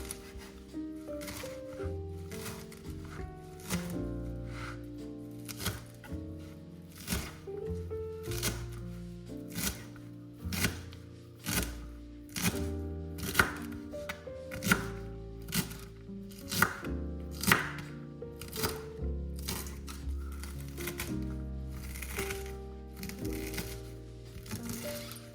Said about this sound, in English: So the first thing we're going to do is chop the ingredients. We start with the parsley.